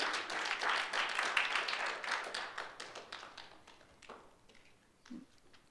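A round of clapping from a small church congregation, brisk at first and then thinning out and fading into a few scattered claps.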